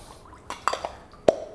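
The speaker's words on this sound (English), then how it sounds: "And leave the water to drip away." Water dripping off a freshly rinsed part of a KUKU coffee maker: a few distinct close drips land irregularly over a soft background hiss, the last one the sharpest.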